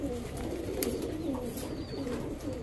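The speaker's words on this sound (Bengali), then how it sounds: "আইসবার দামাসিন একটা মাদি" Female icebar Damascene pigeon cooing in soft, low repeated coos, continuous and moderately near, with faint chirps from other birds in the background.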